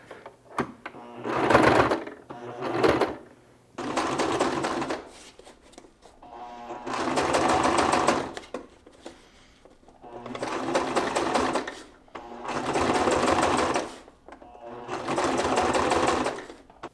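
A sewing machine stitches fabric in six loud, steady bursts of rapid mechanical whirring, separated by short quiet gaps in which the fabric is repositioned.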